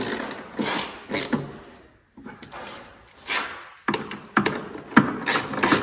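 Bolts on a Ski-Doo Gen 4 snowmobile case are snugged with a ratchet wrench, heard up close as bursts of rapid clicking and mechanical rattles broken by short pauses, with no voices.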